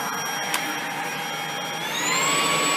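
Shark ION P50 vacuum cleaner running loudly up close, with a brief tap partway through, then the motor pitch climbs and the hum grows stronger as it shifts from low to high power mode.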